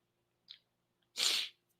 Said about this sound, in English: I got another sneeze coming.